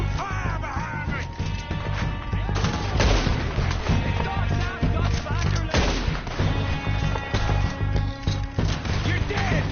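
Dense, loud gunfire from several weapons rattles nonstop through a video game shootout against O'Driscoll gang members, with sharp shots and bursts crowding each other and crashing impacts mixed in, while voices shout over the fighting.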